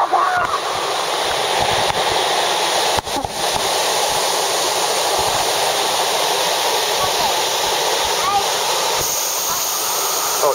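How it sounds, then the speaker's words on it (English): Waterfalls pour alongside water spouting out of pipes, a loud, continuous, close rushing roar that stays even throughout, with people talking over it. "These pipes of water just spouting out"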